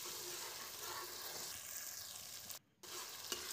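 Paste of two onions hits hot oil and sizzles loudly, a steady close frying hiss that briefly cuts out near the end, then resumes, for a mixed-vegetable mutton keema.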